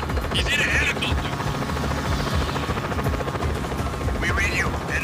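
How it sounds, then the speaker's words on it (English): Helicopter in the Just Cause 4 video game, a continuous dense rotor and engine roar filling the scene at steady loudness, with brief higher game effects layered over it and no speech. "Enemies in a helicopter."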